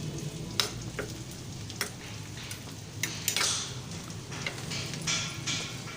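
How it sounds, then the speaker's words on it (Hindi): Oil sizzling on a hot griddle for street-style egg bhurji with onion, tomato and chilli, a steady close frying hiss broken by a few sharp clinks of a utensil against the pan. "ऑयल फेंकने के बाद ये देखें 2 से 3 टेबलस्पून ऑयल फेंक के"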